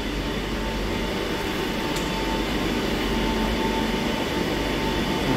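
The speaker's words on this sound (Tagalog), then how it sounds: "Ay, yung train sa kabila." A train rolls past on the far track at a station platform, a steady broad rumble with rail noise holding the same level throughout, no voices.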